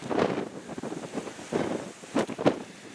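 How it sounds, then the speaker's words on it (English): Gusts of wind buffet the microphone in uneven rumbling bursts, strongest at the start and in two sharp puffs near the end, with no voices. "It's windy."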